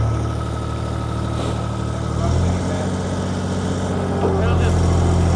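Skid steer engine idling at a steady low rumble, close and loud, with a slight shift in pitch partway through and people talking over it.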